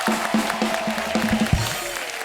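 Audience applause fills a TV show stage, a steady wash of clapping that runs the whole way through, with a music bed playing underneath.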